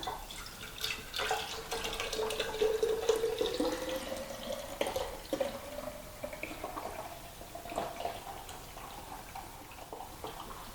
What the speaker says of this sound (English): I'm going to pour this one into this one.